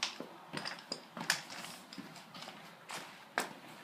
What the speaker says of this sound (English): the sound of your feet hitting the mat is louder than on the other